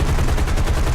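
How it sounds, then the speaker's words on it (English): A P-39 fighter's machine guns fire in the air-combat game War Thunder, a loud, dense, continuous rattle of rapid shots up close. "Right there I was only using machine guns though"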